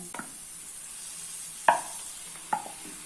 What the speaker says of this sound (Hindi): अभी इसमें मैरिनेट किया हुआ मटन ऐड कर लेना है